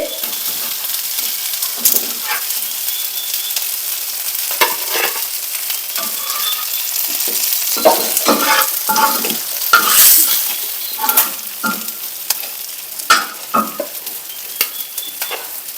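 Dried fish (karuvadu) frying in a pan, with a bright, crackling sizzle that rises and falls over a long stretch, broken by occasional clinks and scrapes of a utensil.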